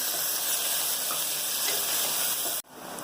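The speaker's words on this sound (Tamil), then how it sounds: "வெங்காயம் நல்லா வதங்கட்டும்." Chopped onions fry in a pan for vegetable biryani, a continuous bright sizzle held close and loud, cutting off abruptly near the end to a quieter hiss.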